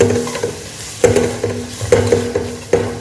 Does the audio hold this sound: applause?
no